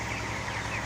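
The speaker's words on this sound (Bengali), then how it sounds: "ব্রয়লার মুরগি" Broiler chickens cluck and murmur as a dense, continuous flock, a steady close chorus with no clear breaks and no talk.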